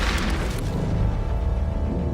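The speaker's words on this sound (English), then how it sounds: "a German battleship fires off another salvo" Deep, rumbling booms from a German battleship's gun salvo roll on continuously with a dense low-end roar and no quiet gaps.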